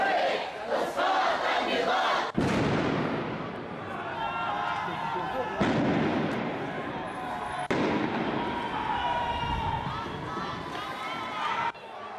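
Large crowd of anti-regime protesters rallying overnight in Manama, Bahrain, with continuous loud chanting and shouting, sharp bangs cutting in a few times, and the noise of a dense crowd throughout.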